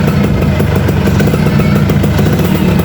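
A 2001 Yamaha F1ZR two-stroke motorcycle engine runs steadily close by after a kick start, with a continuous loud, rattly, buzzing idle.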